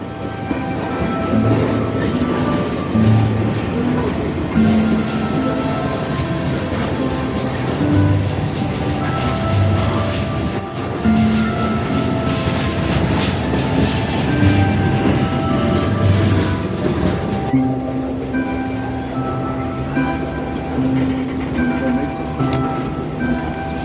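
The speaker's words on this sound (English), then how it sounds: "just as the head end of 367 passed us, the headlight of Norfolk Southern 370 appeared off in the distance" Norfolk Southern freight trains pass at a siding, a long low rumble of engines and rolling wagons with sustained horn-like tones and rattling, steady and fairly close throughout.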